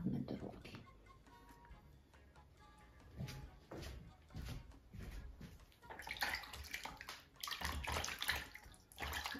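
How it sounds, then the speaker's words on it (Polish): Tap water runs and splashes in short, uneven bursts while hands are rinsed during indoor January seed sowing. The sound is fairly quiet and close, with breaks between the splashes. "ponieważ sobie ręce opłukam"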